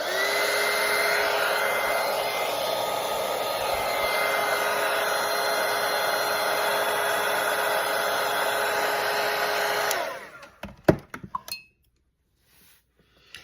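A hair dryer blows steadily at close range for about ten seconds while drying a watercolour pumpkin-and-bow painting, then cuts off, followed by a few light clinks and handling taps before near silence.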